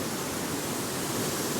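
Waterfall at Glen Sannox tumbling off rocks, a steady dense roar of falling water filling the scene, close and continuous with no voices.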